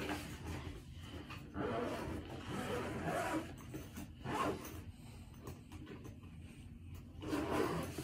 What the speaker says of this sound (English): if we unzip this thing all the way down, it'll look like that